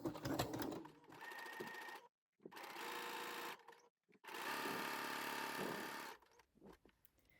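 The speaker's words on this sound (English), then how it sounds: "you can top stitch the edges down" A sewing machine topstitches the edges of stretchy activewear fabric, running in three sustained close-up bursts of steady whirring, the longest almost two seconds, broken by short silent gaps.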